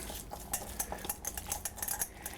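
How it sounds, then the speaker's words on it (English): Beef flank steak stirred into its marinade in a bowl for beef and broccoli stir fry, with quick, rhythmic wet slaps and clinks of a utensil against the dish, close and steady. "gonna put my beef in there, make a mess, and get this really stirred up"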